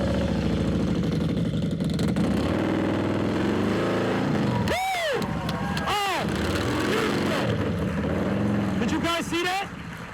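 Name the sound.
motorcycle pulling away, clutch let out and throttled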